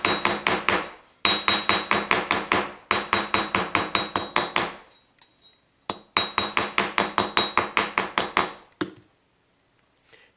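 A rawhide mallet beats a wire Christmas tree pendant in fast, evenly spaced blows, grouped into several bursts with short pauses between them. The strikes are close, loud and sharp, with no talking.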